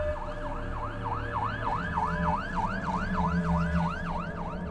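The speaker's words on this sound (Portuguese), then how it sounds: "ouvi o som de sirene se aproximando" An emergency siren wails in a steady, rapid up-and-down cycle, loud and continuous over a low road rumble, as if the vehicle is drawing close.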